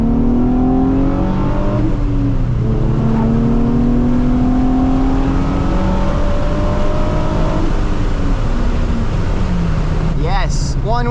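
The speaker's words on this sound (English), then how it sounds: "Can we do a little burnout? Oh, one wheel peel." A Nissan 350Z's engine drones loud and close during a one-wheel-peel burnout, a sustained revving roar with shifting pitch and tire noise, with people talking over it.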